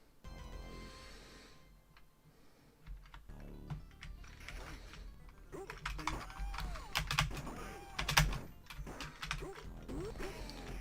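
Keys on a computer keyboard clatter during arcade gameplay on an emulator, sparse at first, then building into dense, close bursts of clicks with some heavier strikes.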